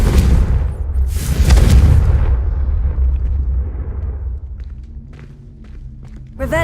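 The Confringo fire spell in the Hogwarts Legacy game goes off as a loud, booming explosion with a crackling burst at the start, then a rumble that fades, and a sharp sound at the very end.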